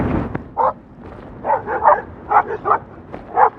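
A dog barks from behind a fence along a Pacific Coast road, heard from a bicycle. About six short barks and yips come at an irregular pace, moderately close and standing out over a low background hum.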